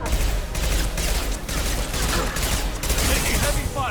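Dense rapid gunfire in the video game Mass Effect 2, a sustained fusillade of overlapping shots at constant loud volume with no pauses.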